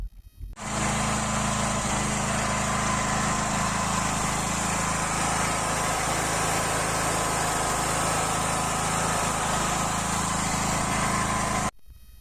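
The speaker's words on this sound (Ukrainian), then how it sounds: "Зараз давайте випробуємо, скільки генератор Flyk споживає газу на холостому ході." A 7.5/8 kW Flyk generator running on gas at idle: a steady, loud mechanical drone that starts abruptly, holds evenly for about eleven seconds, then cuts off.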